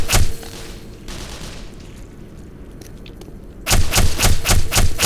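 Rapid repeated weapon fire in the video game Black Mesa, loud bursts at the start and again in a quick rhythmic volley at the end, with a quieter rumbling stretch between.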